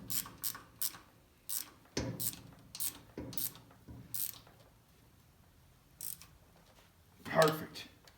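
A wrench tightens a fitting on a Ford Jubilee tractor during an oil change, giving a series of short metallic ratcheting clicks and scrapes at close range, with quiet pauses between strokes.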